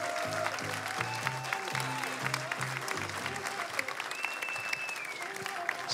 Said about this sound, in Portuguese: peço um grande aplauso para estas fantásticas finalistas